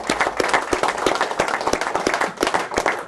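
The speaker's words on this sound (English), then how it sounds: "So can we just have a round of applause for them?" Anglers at a match fishing event give a round of applause for the fishery staff, with sharp, close claps in a steady, lively patter throughout.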